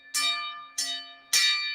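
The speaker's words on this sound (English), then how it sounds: "Trying out the new bells still, folks." A bell sound effect added to a live stream rings three times in quick succession. Each strike is bright and loud, with a shimmering ring that fades before the next.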